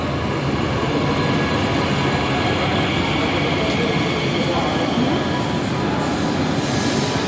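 A passenger train arriving at a platform at Halle station, a loud, steady rumble of rolling carriages with faint wheel squeal and hiss, close by and continuous without a break.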